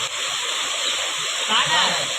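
Floodwater from a Konkan river flood pours loudly and steadily through a collapsed culvert near a house, a continuous close rushing roar with splashing surges, while people talk over it.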